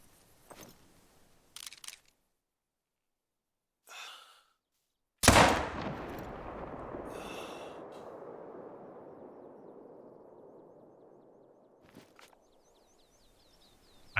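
A single loud rifle shot cracks in the hunting game theHunter: Call of the Wild and rolls away in a long fading echo, framed by soft footsteps and faint rustles before and after.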